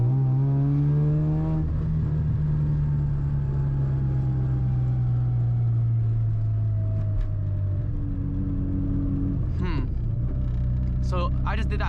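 Mazda FC RX-7 rotary engine pulls hard under acceleration, a loud droning tone climbing and then easing, followed by quieter engine rumble with a few sharp mechanical noises near the end.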